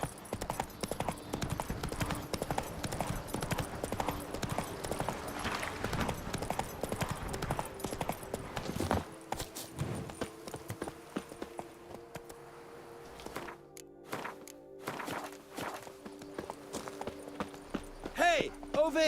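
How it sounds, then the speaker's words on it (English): Horse hooves clip-clop in the video game The Witcher 3: Wild Hunt, a rapid rhythmic trotting that runs under intermittent speech, slowing and thinning in the second half. "Controlar este caballo es muy fastidioso."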